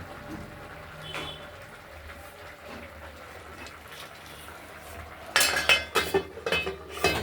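A metal lid goes onto a pot of simmering vegetable curry made with red potato, pumpkin, beans, cauliflower, drumstick and eggplant. After a quiet stretch, sharp metallic clinks and clatter ring out close by, with no talk.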